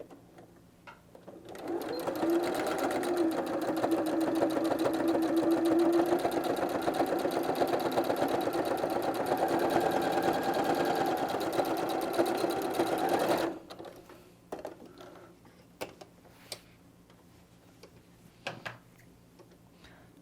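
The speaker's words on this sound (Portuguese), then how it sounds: "Vou fazer mais uma costurinha aqui um pouco para cima." A sewing machine runs a seam on a canvas tote bag, making a fast, even mechanical chatter for about eleven seconds before it stops abruptly, followed by quiet scattered clicks and handling.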